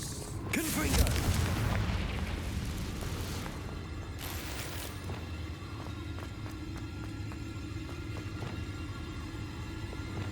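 Spell explosions from Confringo and Bombarda in Hogwarts Legacy: a loud booming blast near the start, followed by a few sharp bursts and a low lingering rumble with scattered impacts.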